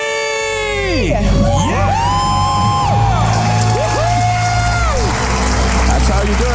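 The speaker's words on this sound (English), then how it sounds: "Let's hear a debt-free scream" A conference crowd erupts in screams, whoops and cheers, a loud, dense wall of many voices with rising and falling yells sustained throughout.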